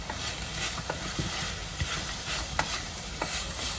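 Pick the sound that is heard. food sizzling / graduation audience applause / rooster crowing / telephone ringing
food sizzling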